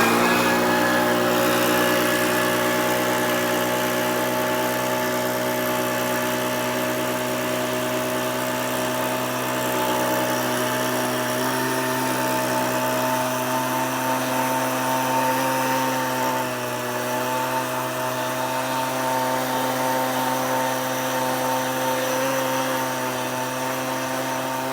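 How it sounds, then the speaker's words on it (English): A leaf blower engine runs steadily and loudly at an even pitch throughout, clearing leftover stones from a lawn, with no voices over it. "The leaf blower will get most of it out."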